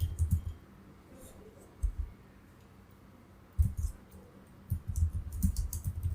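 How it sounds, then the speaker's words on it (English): Short bursts of typing on a computer keyboard, quick clicky keystrokes separated by quiet pauses, close by. "start typing something in notepad"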